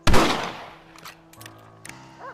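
One loud rifle shot from the Western game Red Dead Redemption booms up close at the start and decays into a ringing tail, followed by faint clicks and soft background tones.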